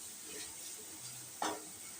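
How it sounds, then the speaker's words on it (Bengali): Potatoes stirred in a frying pan for an alu paneer dish after a bowl of mixed water is added, giving a soft steady sizzle and one brief spatula scrape. "আলুগুলো নেড়ে নেব।"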